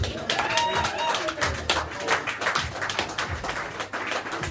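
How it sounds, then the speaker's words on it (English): Audience clapping for a band after a set at a prog rock night in a pub venue, a scattered, uneven patter of hands with a few sharp nearby claps, and voices mingling in the crowd. "Give them a round of applause."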